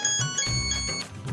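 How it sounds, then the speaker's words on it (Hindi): A mobile phone ringing with a steady electronic ringtone of sustained tones, clear and close over faint background room sound. "फोन बजा दे मुझे।"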